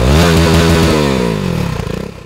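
A KTM Duke 390 with a liquid-cooled, fuel-injected 375 cc single-cylinder engine revs loudly up close, its buzzing note sweeping and then dropping away as the revs fall.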